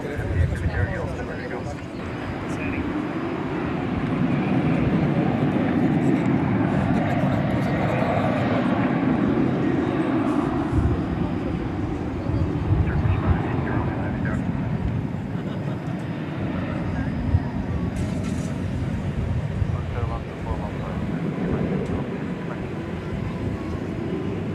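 An American Airlines Boeing 737-800 jet at DFW airport after dark produces a continuous engine roar that swells in the middle and stays fairly loud and broad throughout.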